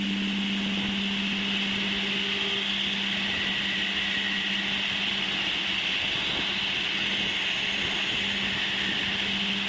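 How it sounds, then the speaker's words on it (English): Uranus's magnetosphere turned into sound: a steady, eerie electronic drone with sustained whistling tones over a hissing bed, unchanging in loudness and free of any voices. "And this is the music of the Uranian magnetosphere."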